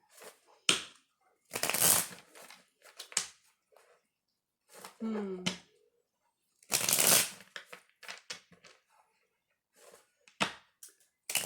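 A tarot deck is shuffled and split by hand in crisp bursts of riffling and card slaps, spread across several seconds with quiet gaps and close, soft handling sounds, and a voice speaking intermittently between them.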